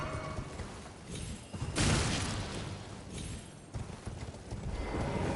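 A horse galloping in the Elden Ring video game takes several hits, its hoof clatter running under continuous rough in-game noise, with a louder crashing burst about a third of the way in; no one speaks.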